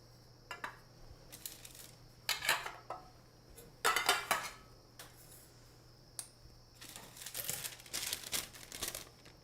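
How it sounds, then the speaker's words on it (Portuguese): Parchment paper cut and folded to line a 15 cm cake pan for fruit cake, heard as several close, sharp crinkling and rustling bursts separated by brief pauses, with no talking. "então eu corto um papel manteiga, né, com a largura da forma"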